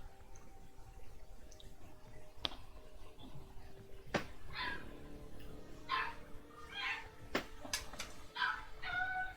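Agitated dogs give off a scattered series of yips and barks, some sharp and sudden, others quieter and further off, spread over several seconds with a faint background hum and no talking.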